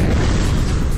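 A loud, sustained explosion rumble in the motorbike combat game Road Redemption, dense low booms filling the whole moment with no pause.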